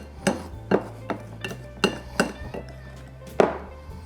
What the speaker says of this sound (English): you just wanna cut it in, make it nice and crumbly